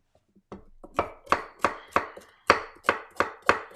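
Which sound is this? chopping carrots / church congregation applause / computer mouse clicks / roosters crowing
chopping carrots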